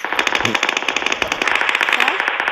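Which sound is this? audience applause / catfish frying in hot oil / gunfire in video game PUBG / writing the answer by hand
gunfire in video game PUBG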